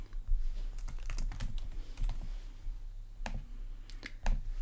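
Someone types on a computer keyboard while entering a customer record, a close, irregular run of sharp key clicks in short bursts, with a low hum underneath.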